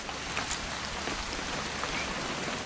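Steady rain falls outdoors in the video game What Remains of Edith Finch, a dense, even hiss of drops with no voices over it.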